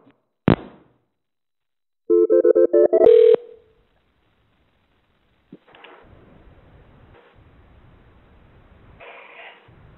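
A telephone line going dead after a prank call is hung up: a sharp click, then a burst of ringing or dial-type electronic tones, a pause, and a faint low line hiss that lingers to the end.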